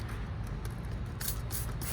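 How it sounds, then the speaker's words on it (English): Super Clean degreaser is sprayed from a bottle onto a K&N air filter in short, faint bursts of hissing spray against a quiet background. "Just go ahead and start spraying it down."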